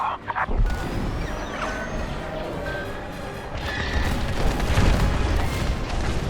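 Deep booming explosions rumble through a Star Wars Squadrons space battle near a capital ship's core, with a low continuous roar swelling into heavier blasts toward the end.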